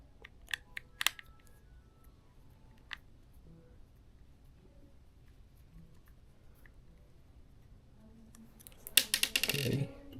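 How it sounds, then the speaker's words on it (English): A screw being taken out of a Tranx 300 fishing reel with a screwdriver: faint, sparse small ticks and clicks near the start, then a louder burst of close rattling and tapping at the end, mostly quiet in between. "We're going to take this initial screw out."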